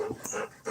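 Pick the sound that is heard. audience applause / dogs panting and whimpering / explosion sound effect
dogs panting and whimpering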